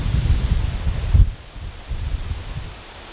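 Strong gusting wind during a severe wind storm in a yard with trees, roaring and buffeting the microphone in loud bursts that ease after about a second and then keep blowing at a lower level.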